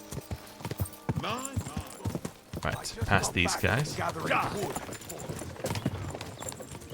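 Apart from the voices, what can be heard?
horse riding clip-clop in video game Kingdom Come: Deliverance II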